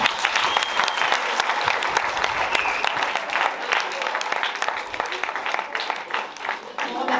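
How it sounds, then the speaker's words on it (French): Dense applause from an audience at a Kino Pyrénéus 2022 film gathering, a steady wash of many hands clapping throughout, with voices mixed in underneath. "On peut applaudir tout le monde."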